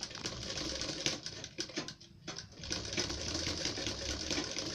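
A sewing machine stitches a border onto a garment neckline in quick, steady rattling bursts, briefly pausing midway before running on, close and moderately quiet.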